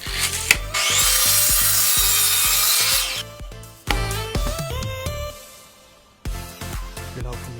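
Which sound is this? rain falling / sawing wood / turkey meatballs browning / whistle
sawing wood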